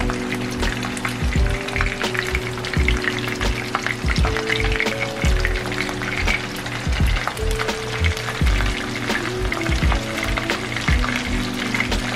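Hard shell tacos fry in hot oil in a pan with a dense, continuous crackling sizzle, close and steady throughout, with occasional light bubbling pops.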